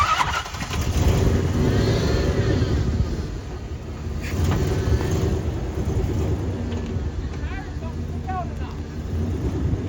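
A Toyota pickup truck's engine runs steadily and loud nearby as the truck is moved a short distance, a continuous low rumble with faint chirps and other sounds over it.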